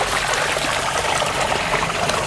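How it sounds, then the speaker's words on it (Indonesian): River water flowing steadily over a clay bank: a continuous close, loud rushing and trickling wash with no breaks. "ini dia airnya"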